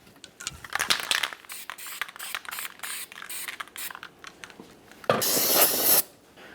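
Scrubbing and spraying on the axle hub of a 1999–2006 Chevrolet Silverado 1500 during a parking brake shoe replacement: quick scratchy wire-brush strokes, then a steady one-second hiss of parts cleaner spray close by.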